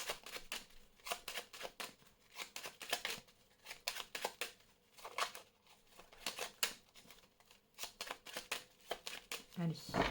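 A deck of tarot cards is cut and handled, producing quick repeated riffling and slapping bursts in irregular clusters, fairly close.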